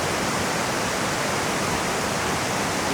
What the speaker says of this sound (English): we'll go and go down by the water that you can hear in the background